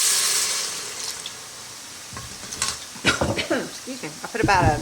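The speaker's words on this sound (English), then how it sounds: "we're going to deglaze this with some beef broth" Beef broth hits a pan of browned onions with a sharp sizzling hiss that fades over the first couple of seconds, then a person speaks over quieter bubbling.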